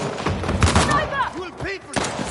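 Bursts of gunfire ring out in a PS4 shooter video game, mixed with whooshing effects and shouted voices in quick succession.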